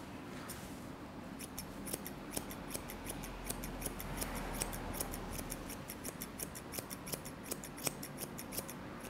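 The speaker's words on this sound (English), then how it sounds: "Bring your curved scissors to create that natural arch." Curved scissors trimming a Miniature Schnauzer's fur make rapid, crisp snips in quick irregular runs, close and fairly quiet against a soft room hum.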